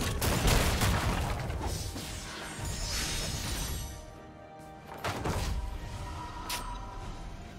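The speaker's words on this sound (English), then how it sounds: "Blue team's turret has been destroyed." Turret destruction in League of Legends, a loud crashing, shattering burst with layered impacts that fades, then a second sharp crash and ringing tail.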